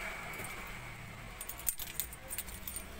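Car keys for a 2020 Ford Everest jangle near the ignition in a few light metallic clinks, with a sharper rattle in the middle, against a low background hum; no speech.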